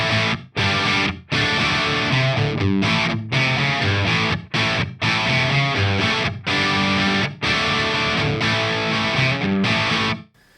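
STR LJ1 electric guitar played through a BOSS WAZA Tube Amp Expander with an Own Hammer Bogner Ubercab impulse, giving loud, distorted chugging riffs in choppy bursts separated by short muted stops, alone with no talk.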